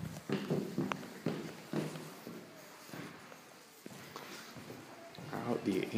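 Footsteps climbing stairs in an old Urbino neighborhood building, a steady series of close thuds in walking rhythm, with people talking underneath.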